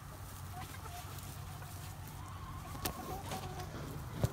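Chickens cluck softly and intermittently at moderate distance, with a low steady background hum and a couple of brief sharper calls near the end.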